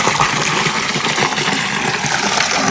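Fresh mountain water flows in a loud, steady rush near the Seealpsee lake in Switzerland, with no voices over it.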